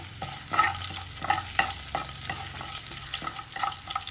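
Urad dal, cumin, mustard seeds and curry leaves sizzle in hot oil, a close, steady frying hiss broken by several spoon stirs and scrapes, alone without talk.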